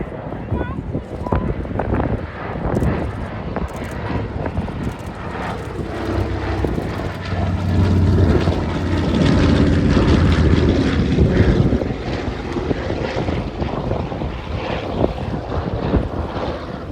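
A Catalina flying boat flying at a wartime-themed outdoor show: a steady, loud drone of propeller engines that swells toward the middle, with wind buffeting the microphone throughout.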